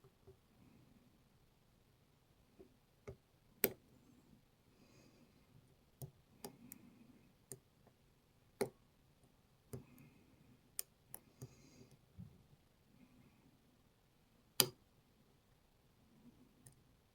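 Sharp, isolated metallic clicks of lock pins being picked in a Brinks padlock, about a dozen irregular ticks spaced over quiet background, close and crisp with no talking.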